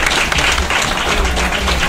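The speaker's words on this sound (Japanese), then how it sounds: "HDL さんにもう一度大きな拍手をお願いいたします。" An audience at an all-Japan manufacturers' spinning-top battle tournament in Shibuya applauds, a dense, loud and even wash of clapping for the full two seconds.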